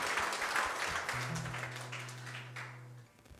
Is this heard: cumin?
no